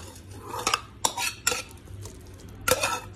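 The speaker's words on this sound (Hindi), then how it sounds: "तो अब इसको हम डाल देंगे इस बैटर में।" Sautéed vegetables are tipped into moong dal idli batter in a bowl. A spoon clinks and scrapes against the bowl in several sharp, separate knocks amid soft stirring, close up and with no talk.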